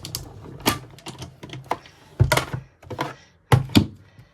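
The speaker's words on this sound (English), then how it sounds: "it's just the paper cracking" Stiff vellum paper crackling and popping as it is bent over an embossed image, a series of sharp close crackles in irregular bursts with quiet gaps between.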